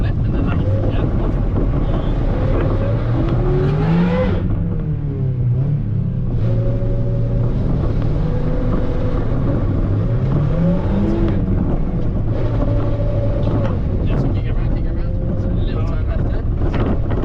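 Mazda MX-5 engine revving hard while drifting, pitch sweeping up and down through repeated throttle blips and sustained pulls, loud and close inside the car with wind noise and people talking over it.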